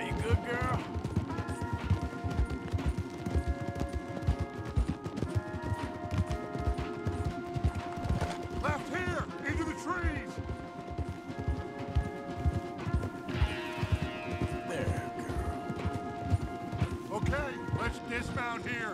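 Horses gallop hard in a video game, a fast rhythmic drumming of hooves running throughout under game music, with voices speaking over it and occasional crashes.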